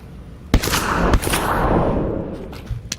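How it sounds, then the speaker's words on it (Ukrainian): Several sharp gunshot bursts crack at close range, with a brief crackling rattle in between, gunfire in the video game Lockdown Protocol. "Та Влад, він в мене стріляв тільки що."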